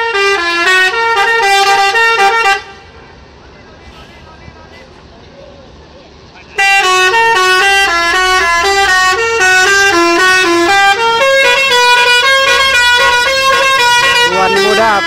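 Sumatran long-distance bus fitted with a full telolet horn plays loud, rapid melodic tooting sequences, paused briefly in the middle and then resumed, very close and dominant.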